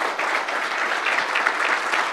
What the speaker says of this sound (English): you should all give yourselves a big round of applause